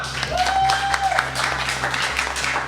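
Studio audience on a French TV quiz show applauding at the close of an episode, a steady wash of clapping held at an even level, with faint voices under it.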